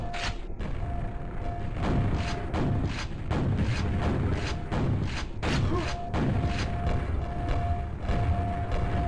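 Grenades explode repeatedly in the Quake video game, a rapid string of heavy booms and thuds over a constant loud mechanical drone, with game sound effects layered throughout.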